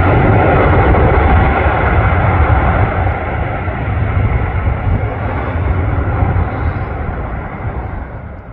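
A landing airliner at Canberra International Airport roars loudly and steadily with heavy engine thrust after touchdown, a dense rumble that holds for several seconds and eases slightly toward the end, with no voices.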